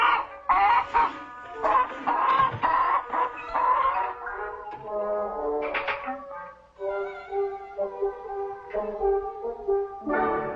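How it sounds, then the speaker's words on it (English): Hens cluck repeatedly in a barnyard, a busy run of close, fairly loud clucks and squawks from several birds, some drawn-out calls mixed in, with no talking. "Anything about hens?"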